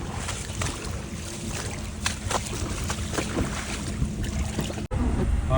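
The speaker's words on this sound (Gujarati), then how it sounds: "બારે વરસાદ ફૂલ ચાલુ હે એકદમ તબડ તોડ" Heavy rain pouring outside in Anjar, a dense steady wash of water noise with splashes and a faint low rumble, broken by a short dropout near the end.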